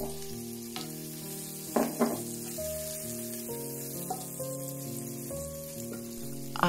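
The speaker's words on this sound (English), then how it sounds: "I infuse the butter oil with garlic and thyme for about 2 minutes." Garlic and thyme sizzle steadily in butter oil on a multi-cooker's sauté setting, a continuous close frying hiss with a few brief louder crackles and stirring bumps along the way.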